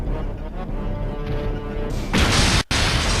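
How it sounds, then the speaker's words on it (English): A sudden explosion in the Resident Evil 3: Nemesis video game bursts in partway through, loud and broadband, cutting off briefly before the rumble carries on over the game's background sound. "there is a random explosion for some reason"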